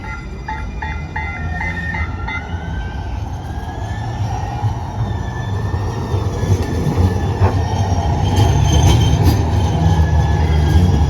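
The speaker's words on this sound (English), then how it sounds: "Let's get on a streetcar back to downtown. It should be here soon." An Atlanta streetcar rolls up to a city stop, a low steady rumble building louder over the clip with faint wheel squeal and traffic noise around it.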